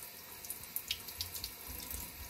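A household tap runs steadily into a sink for a budgie's bath, giving a soft, constant splashing with faint light drips, heard quietly from nearby.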